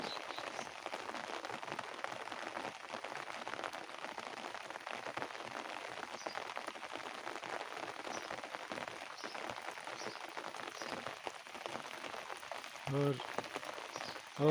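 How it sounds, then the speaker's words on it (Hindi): Steady rain falls across misty mountain slopes, a dense, continuous patter of drops on surfaces that holds at an even level throughout with no voices over it. "यहाँ पर बारिश,"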